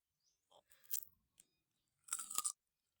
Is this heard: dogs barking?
no